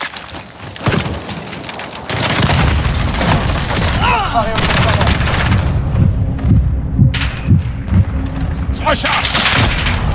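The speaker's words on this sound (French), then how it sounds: "Frappe à dispersion alliée en approche." Heavy booms and rumbling blasts of a cluster strike roll through a Call of Duty Modern Warfare 2019 drop zone match, loud and sustained, with gunfire and radio voices layered over the barrage.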